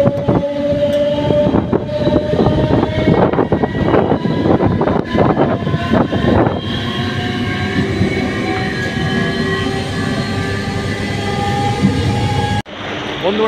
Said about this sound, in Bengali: আমি ট্রেনে যাচ্ছি, ট্রেন থেকে আপনাকে ভিডিও করে দেখাচ্ছি